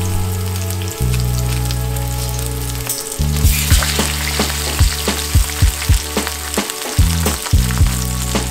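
Leftover salmon fillets frying in oil in a pan, a loud steady sizzle with a sharper burst partway through and repeated crackling pops and spits above it, no voices.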